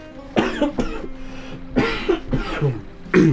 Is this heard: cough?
yes